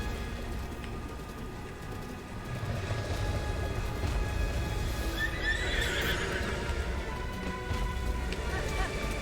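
A horse neighing and clip-clopping as it gallops in the video game The Legend of Zelda: Breath of the Wild, a whinny rising over steady hoofbeats and ambient game sound.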